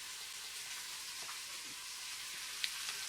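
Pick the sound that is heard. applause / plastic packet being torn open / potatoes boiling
potatoes boiling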